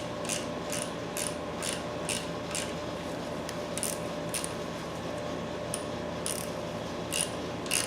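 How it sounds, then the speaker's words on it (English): A ratchet clicks in rapid, evenly spaced bursts while turning over a 4.8 LS engine during a rebuild, close and steady over a constant low hum. "I probably ought to spin the motor over to tighten that one up."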